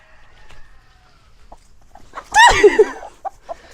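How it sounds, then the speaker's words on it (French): A hen on a farm in the Berry region of France lets out one loud, sharp burst of squawking clucks midway while being caught, set against quiet surroundings with faint rustling. "je vous présente du coup un tuto pour attraper une poule"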